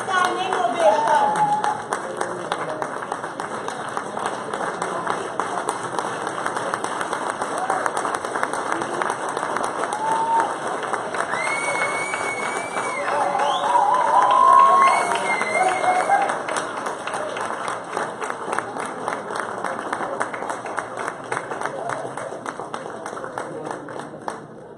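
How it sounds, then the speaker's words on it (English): An audience at a corporate cocktail reception gives a long, sustained round of applause and a standing ovation, dense clapping that swells midway, with voices and background sound mixed in. "I think that they deserve an extremely loud round of applause. A standing ovation, in my opinion."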